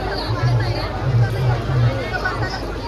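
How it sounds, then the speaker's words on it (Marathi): A dense crowd gathered at Chaitya Bhoomi park in Mumbai on 6 December, a steady hubbub of many overlapping voices and general murmur around the listener, moderately loud and continuous. "पार्कला गर्दी."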